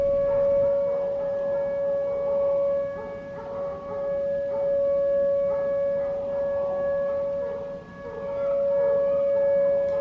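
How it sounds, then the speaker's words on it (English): A steady, wailing emergency warning siren under test at the Shearon Harris nuclear plant sounds continuously from a distance, its tone holding level with slight swells over ten seconds. "This is a test of the Sharon Harris emergency sirens."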